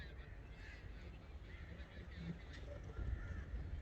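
Geese or ducks honk faintly on the water below a zipline at a safari park, a few scattered calls over steady outdoor wind and rumble.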